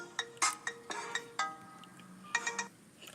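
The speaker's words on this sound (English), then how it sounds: "That's my ringtone." A phone ringtone plays a short melody of bright chiming notes, quiet and clear, with no talking.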